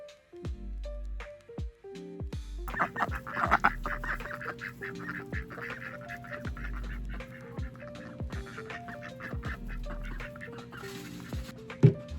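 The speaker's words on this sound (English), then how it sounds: "then I'm gonna put the ducks to bed" Farm ducks quack and honk in a busy chorus at close range, mixed with other fowl calls and set against a steady musical background.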